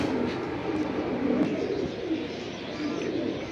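Pigeons cooing at a pigeon seller's stall, low soft coos repeating steadily under a busy ambient background, fairly close.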